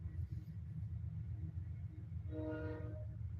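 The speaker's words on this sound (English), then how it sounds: "I stay by a train, so you may hear the train pass through with the horn." Beside a nearby rail line, a passing train's low rumble runs steadily, then its horn blasts in a short, bright, harmonic burst of under a second before fading back into the rumble.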